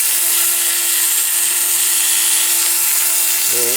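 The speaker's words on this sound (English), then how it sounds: "This rotary tool, I'm going to turn it off" A rotary tool whines steadily at high speed close by while restoring a Dinky Supertoys Foden flatbed chain lorry, a sustained shrill drone that drops in pitch as it winds down at the very end.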